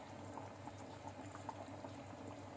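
A pot of drumstick (sahjan) curry with potatoes simmering at a steady boil, a continuous soft bubbling and gurgling with small pops, close and fairly quiet, no voices.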